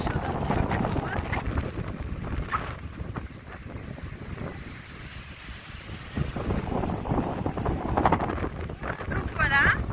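Wind gusting steadily across an outdoor coastal spot in Andalusia, a broad rushing buffet under a nearby voice speaking throughout, with louder bursts near the start and end.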